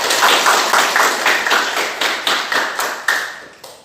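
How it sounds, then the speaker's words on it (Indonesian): A classroom of vocational high-school students clapping together in a quick, even rhythm, about a dozen sharp claps that slowly fade toward the end. "Oke, tepuk tangan"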